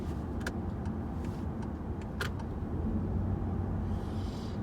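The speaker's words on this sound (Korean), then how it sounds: "거의 저속에서는 계속 전기 모터를 사용하네요" A 2018 Toyota Camry hybrid rolls at low speed on its electric motor, giving a quiet, steady cabin hum with road rumble and a few faint clicks and ticks.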